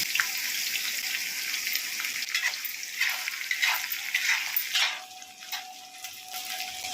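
Large chopped onions frying in spiced oil for mutton tehari, a constant hissing sizzle filling the space close by, easing briefly near the end.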